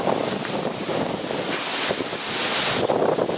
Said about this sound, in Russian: Ветер поднялся